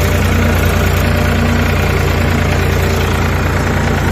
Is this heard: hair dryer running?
no